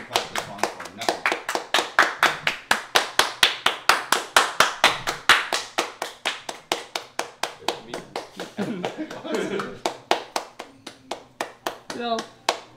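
A small group of people claps steadily along to a song, a fast, even run of sharp claps close by that carries through most of the stretch, with voices talking over it toward the end.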